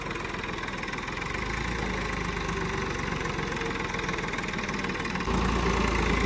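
A tractor engine idles with a steady, rough, knocking chug and a rapid pulsing rhythm, close and loud throughout, swelling slightly louder near the end.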